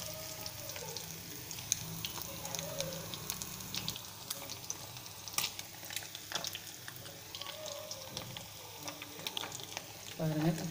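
Small nethili fish sizzle and crackle in hot oil, a steady frying hiss broken by sharp pops, with occasional kitchen clatter and a faint voice in the background.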